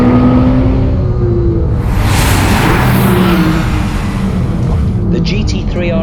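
A high-performance sports car blasts down the back straight of a race track toward a chicane, a loud rushing engine roar swelling and whooshing past, with a voice talking over it.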